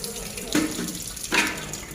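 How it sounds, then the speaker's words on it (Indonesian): Tap water rushes hard into a urinal drain being cleared with a spiral cable, a steady broadband gush with two brief louder surges, close and continuous. "Oh, terlalu kencang airnya."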